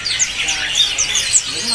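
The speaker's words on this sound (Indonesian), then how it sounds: "kasih penampakan buat burung emprit Jepangnya" Japanese munias chirp at a stall in a bird market, a rapid scatter of high, thin tweets tumbling over one another close by, with a soft background murmur and no clear talk.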